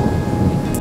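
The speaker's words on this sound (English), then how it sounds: "Look at this storm that's rolling in." A thunderstorm rolls in over a desert campsite, heard as a brief, loud burst of deep rumbling with a hiss of wind or rain on top.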